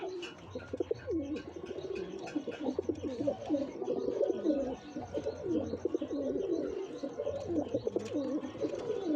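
Pigeons, a pair with a white male and a spotted female, coo in repeated soft throaty phrases close by, with faint chirps and shuffling in between.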